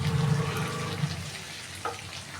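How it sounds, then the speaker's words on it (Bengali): A little water poured into spiced potato and pointed gourd curry in a pan, a soft watery pour and sizzle close by, followed by quieter simmering with a faint clink near the end. "দিয়ে দেব সামান্য অল্প জল, মশলাগুলো যাতে ভিজে যায়"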